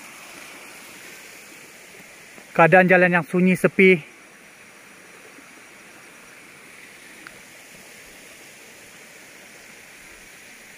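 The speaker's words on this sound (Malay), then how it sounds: "Boleh dengar bunyi air yang mengalir." A small river stream flows beside a quiet forest road at night, a steady soft rushing of water running throughout, briefly interrupted by someone speaking.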